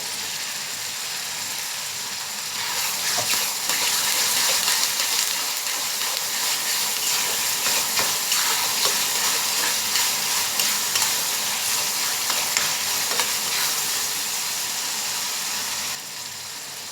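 Onion and tomato frying in a pan, giving a steady, close sizzling hiss that swells once the tomato goes in and then holds for most of the stretch with light stirring.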